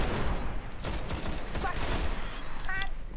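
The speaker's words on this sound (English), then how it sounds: "I'm using a scout rifle." Scout rifle fire rattles through a Destiny video game battle as dense, continuous shooting under loud in-game noise, with a few sharper cracks and a faint voice in the mix.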